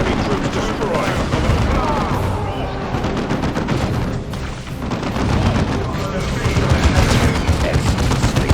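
Tactical Marines firing in Dawn of War II, continuous heavy battle noise of rapid gunfire, booms and explosions, dense and loud throughout with voices mixed into the din.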